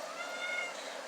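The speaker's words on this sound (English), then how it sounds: "It's my cat." A female cat in heat howls in a steady, drawn-out wail with no breaks, moderately loud and close.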